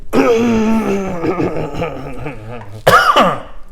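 A drawn-out, throaty vocal groan gives way to a single sharp cough near the end, close and loud.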